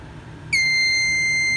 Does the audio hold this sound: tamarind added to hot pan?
no